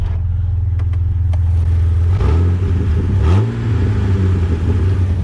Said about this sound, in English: we wouldn't have this awesome sounding Jeep right now